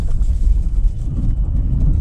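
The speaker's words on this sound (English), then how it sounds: "So you hear all the brake grabbing, and traction's on" A Toyota RAV4 Hybrid with all-wheel drive churns through a sand pit, its traction control grabbing the brakes, making a steady, loud low rumble of engine and tires that runs throughout with no clear pauses.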